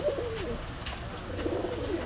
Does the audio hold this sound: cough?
no